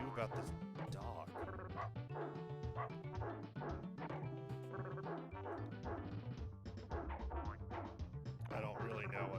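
A dog barks and yips repeatedly in a retro SNES-style game played on an Analogue Super NT, chiptune-like yaps sounding amid busy game music and effects.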